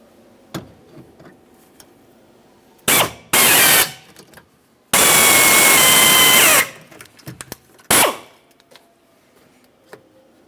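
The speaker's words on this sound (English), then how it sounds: "Continue on with a 3/8 drill bit." Power drill fitted with a 3/8 drill bit grinding off rivet heads on the rear window regulator of a 2003-2011 Mercury Grand Marquis, with three loud close bursts, the middle one long and steady, separated by quiet clicks and handling noises.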